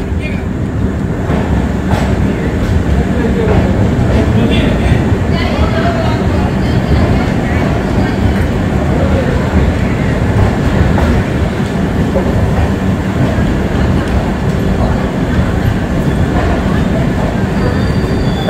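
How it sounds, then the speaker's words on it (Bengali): Mithila Express train in motion after leaving Ramgarhwa halt, a loud continuous rolling rumble with intermittent high wheel squeals and faint rail clatter, heard from inside the carriage. "আমাদের ট্রেনের প্রথম হল্ট রামগড়বাগ ছেড়ে বেরোলো।"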